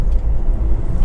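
A 1.6 i-DTEC diesel in a Honda Civic SR runs steadily at idle, a loud low rumble with no change over a short stretch.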